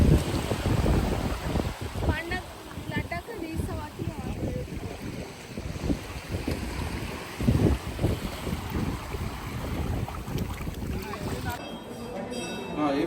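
Strong wind buffets the microphone on a beach near Antarvedi temple, with a continuous rumbling roar, probably surf, and voices mixed into the steady gusts throughout.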